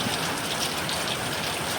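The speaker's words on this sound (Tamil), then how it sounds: "கோடை மழையை வளர்ப்பு வேலைக்கு இடையில இருந்தாலும் அற்புதமாக பெய்யுது" Summer rain pours steadily and densely, a continuous close hiss of drops on surfaces with no voices.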